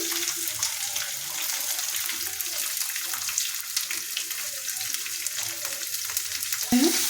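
Chillies and onions sauté in a pan with curry leaves and coriander, giving a continuous close hiss of frying with faint stirring and a short clank near the end.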